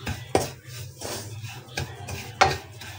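A metal spoon stirs halwa in an open pan, giving a few light clinks and scrapes against the pan over a soft background hum.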